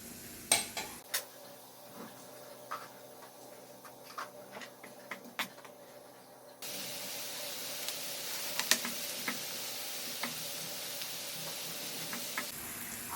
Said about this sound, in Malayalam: സവാള നല്ലോണം വഴറ്റിയെടുക്കണം